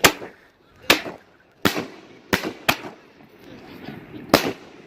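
Pyro Junkie 60g canister firework shells burst in a string of six sharp, booming explosions at irregular intervals, each loud thump followed by a brief crackling decay, outdoors with no talk over them.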